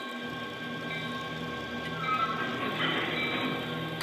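A model train fitted with a SurroundTraxx DCC sound system plays a coupling effect: a steady mechanical rumble that swells briefly partway through, then settles back.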